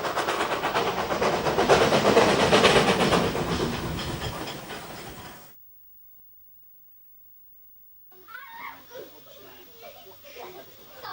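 A working steam train from the golden age of steam rumbles and clatters loudly for about five seconds. The sound then cuts to silence, and a voice speaks afterward.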